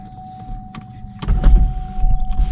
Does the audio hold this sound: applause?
no